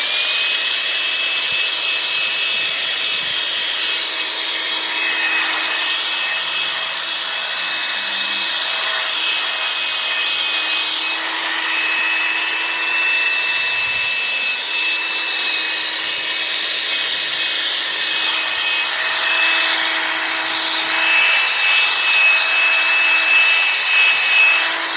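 Hand sanding a car headlight lens with 3000 grit sandpaper gives a continuous, close, raspy rubbing hiss that stays even and steady throughout with only slight swells in intensity.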